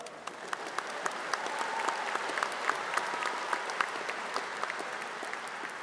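Graduation-ceremony crowd at a Class of 2024 commencement applauds steadily, a broad wash of many hands clapping at moderate distance with occasional sharper individual claps standing out, sustained throughout.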